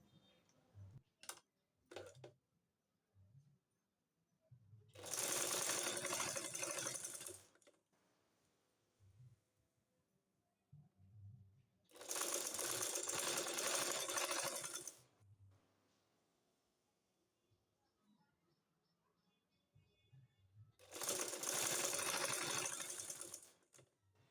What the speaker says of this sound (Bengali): এইভাবে রেখে সেলাই করে নিতে হবে